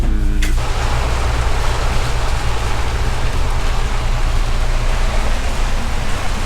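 Heavy rain falls steadily on a sailboat, a dense, even hiss of drops drumming over a low rumble, continuous and loud throughout with no voices.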